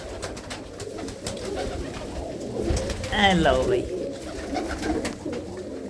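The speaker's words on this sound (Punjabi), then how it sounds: "ਕਬੂਤਰ ਦੇਖੋ ਤੁਸੀਂ ਕੀ ਚੀਜ਼ ਆ" Pigeons coo and flutter nearby in a short burst over a busy background, with someone talking throughout.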